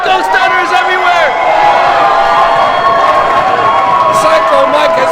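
A live wrestling crowd cheers and shouts loudly throughout, with whistles and scattered clapping in a packed arena, a steady roar under excited voices.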